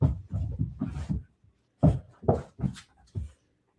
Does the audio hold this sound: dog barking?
yes